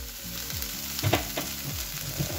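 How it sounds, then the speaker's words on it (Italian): Potato chips sizzle steadily in an overfilled pot of hot oil, with a few scraping tosses and stirs breaking through the continuous frying hiss, close and moderately loud. "Le patatine salate e saltate."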